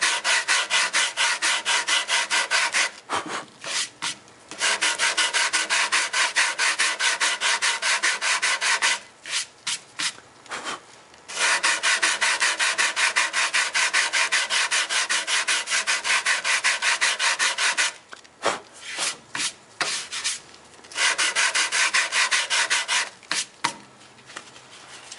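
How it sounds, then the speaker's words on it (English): Sandpaper of 150 grit rubbing over cello wood in long, steady back-and-forth strokes. The scratchy rasp is loud and close, with brief pauses between runs. "Let's put another sanding operation on that. This is still that 150 grit fine paper."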